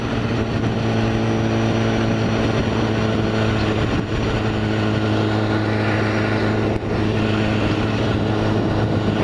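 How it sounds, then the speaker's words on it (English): A BMW S1000RR sport motorcycle engine drones steadily at cruising speed, a constant low exhaust hum mixed with road and wind noise. "And that exhaust is phenomenal."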